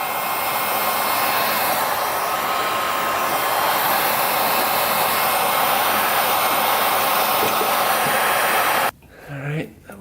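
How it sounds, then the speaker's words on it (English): A heat gun blows a loud, steady airflow roar while warming hardened plastic on a Honda 200X, running continuously before cutting off, with a voice briefly speaking at the end. "heat gun out and try to heat up this plastic"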